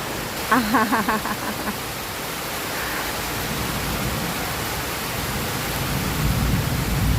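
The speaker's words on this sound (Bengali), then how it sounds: "বৃষ্টি হচ্ছে তো হচ্ছে ভীষণ" Heavy rain pours steadily during a storm, a dense constant roar that swells slightly toward the end; a voice speaks briefly near the start over the downpour.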